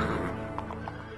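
A horse neighs in the Castlevania video game, a short whinny over busy game music and background sound, with a couple of faint hoof-like taps.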